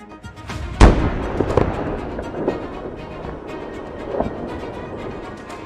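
T-64BV tank and gunfire in combat in an old industrial zone, heard as a continuous distant roar broken by a sharp nearby blast and scattered duller thumps and cracks.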